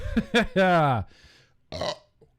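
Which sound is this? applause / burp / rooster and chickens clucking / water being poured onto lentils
burp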